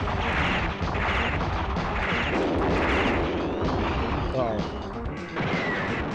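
Rapid gunfire and crashing blasts from a retro run-and-gun video game, loud and continuous as the character jumps and shoots, with a player's voice talking over the action.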